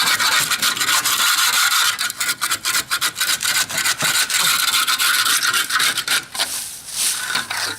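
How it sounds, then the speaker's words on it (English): A small axe scrapes material off a house foundation during repair work, making loud, close, repeated rasping scrapes in uneven bursts with short pauses between strokes. "That little axe. Get this stuff off of here. Scrape it all off."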